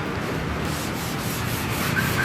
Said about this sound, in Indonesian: ini di amplas, pakai amplas apa ini ya? Ukuran yang paling halus ya.